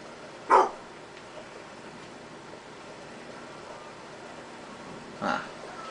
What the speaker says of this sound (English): What is he barking for?